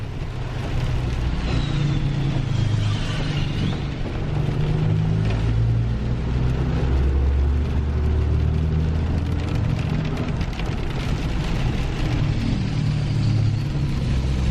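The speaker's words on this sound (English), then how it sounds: "this is really nice, smooth, shifting, clean, low mile truck." A diesel engine drones steadily throughout, with low rumbling and shifting revs as a fourth-generation Cummins-powered pickup truck drives along, loud and close, with no talk.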